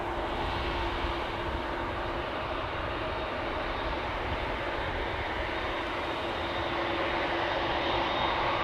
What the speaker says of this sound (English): This is KLM flight 1819 to Frankfurt